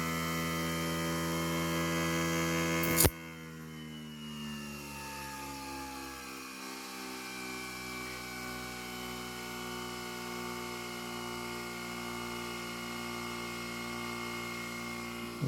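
Two small electric motors running on a homemade electrical setup with a lamp, a steady tonal whine and mains hum; a sharp click near three seconds as a short circuit is made, after which the motor pitch shifts and keeps droning.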